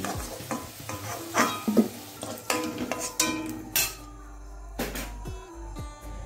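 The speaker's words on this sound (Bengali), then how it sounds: "এবার আলুটাকে আমি তুলে নিচ্ছি।" Fried potatoes lifted from hot oil during a Bengali eggplant recipe, with oil sizzling steadily, a slotted spoon scraping and clinking against the pan several times, and small metallic taps toward the end.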